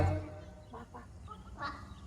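At a ranch chuckwagon breakfast show, an audience imitates chicken clucking during an Old MacDonald sing-along, several voices making short rhythmic squawks amid room noise.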